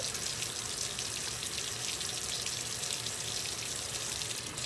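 Hot tap water runs in a steady, close rush while hands are washed under it, a constant splashing hiss with no talk.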